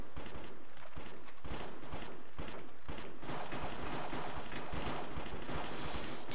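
Rapid gunfire in the Cops and Crims video game, dense bursts of close, loud shots cracking almost without pause throughout.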